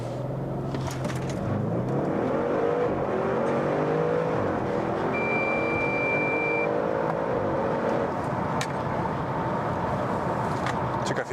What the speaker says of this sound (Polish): jak to auto przyspiesza do 140